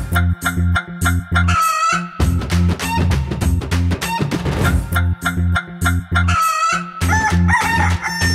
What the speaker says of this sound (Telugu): ఇక్కడ కోళ్ళు కోత కూసేసాయి